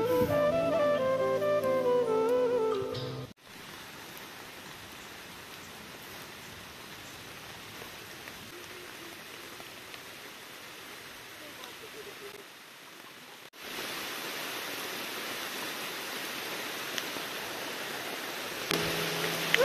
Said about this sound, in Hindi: तो गाइस वर्षा ही गला है देखो